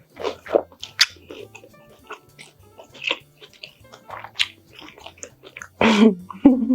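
Crunchy bites of sourdough bread soaked in zuppa toscana broth with sausage, several close, wet chewing crunches spread out, with one louder bite near the end.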